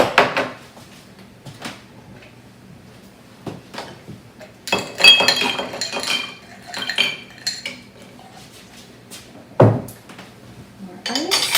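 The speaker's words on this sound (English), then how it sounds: "More ice." Ice and glassware clink and rattle while a whiskey cocktail is mixed and strained into a rocks glass: scattered close, sharp clinks and clatters in bursts over a quiet room, with brief talk.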